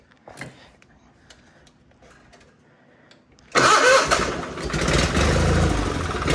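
A John Deere 318 garden tractor engine cranks with quiet clicks, then catches and roars to life, settling into a loud, steady running note close by.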